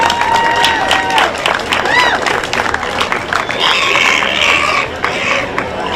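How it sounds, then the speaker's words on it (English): Crowd applause at a junior livestock show honoring the kids, steady dense clapping with cheering mixed in and voices talking over it throughout. "Let's give each and every single one of these kids a nice round of applause."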